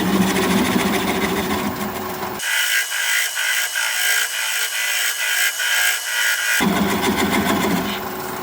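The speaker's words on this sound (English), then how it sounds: "I'm going to switch to a swept back bowl gouge, 3/8 inch swept back, so that I can get in there closer and tighter" A wood lathe turning a wooden bowl while a 3/8 inch swept back bowl gouge cuts, a loud steady whirring drone with a rough scraping break in the middle.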